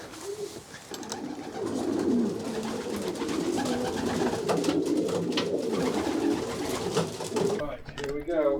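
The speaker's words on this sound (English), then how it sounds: "being in a confined space with excitable pigeons flapping around" Racing pigeons in a confined loft coo in a dense, continuous chorus, with wing flaps and shuffling mixed in, loud and close, ending with a brief burst of different noise.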